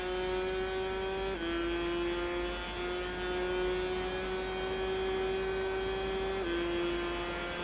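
Honda racing motorcycle in the Tourist Trophy racing game, its engine holding a steady high whine with two sharp pitch drops as gears shift, loud and constant with no talk.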